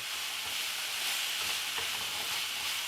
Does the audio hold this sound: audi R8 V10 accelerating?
no